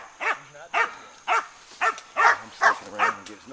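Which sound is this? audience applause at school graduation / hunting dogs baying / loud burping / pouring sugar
hunting dogs baying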